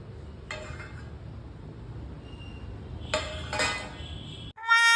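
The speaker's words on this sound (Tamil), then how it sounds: "அதுக்குள்ளே தட்டெல்லாம் எடுத்து வைப்போம்" Plates being set out at home give a few scattered clinks and clatters of dishes, two brighter knocks near the end, over a quiet room background.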